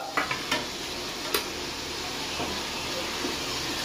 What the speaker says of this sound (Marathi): बटाटा लवकर शिजेल, त्यामुळे पहिलेच आपण तेलामध्ये टाकूया